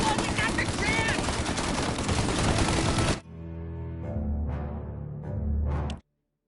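Gunfire in a shootout in the video game Mafia Definitive Edition: a dense, loud barrage of rapid shots for about three seconds, then it cuts to a quieter stretch with tonal ambience and a few softer swells.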